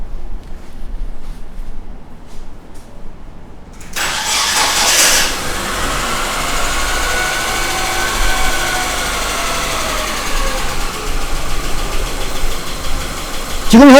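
A car engine cranks and starts in a workshop during an injector timing check, then settles into a steady mid-pitched idle that runs for about ten seconds, close and fairly loud.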